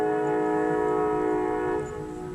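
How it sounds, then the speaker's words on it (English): Train near the railroad tracks by an RV park, a sustained multi-tone horn blast that holds steadily and fades slightly at the end, heard from some distance. "You hear that train?"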